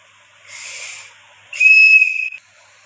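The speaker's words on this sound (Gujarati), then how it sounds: "સીટી વગાડા લ્યા" At a wedding procession, a breathy rushing puff gives way to a loud, steady, shrill whistle blast lasting under a second, heard up close without talk.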